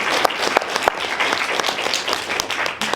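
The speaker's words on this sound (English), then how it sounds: "please raise your hand so we can give you one last round of applause" Applause from the audience at a university startup competition event, a few seconds of fairly dense clapping with individual sharp claps standing out, at moderate level.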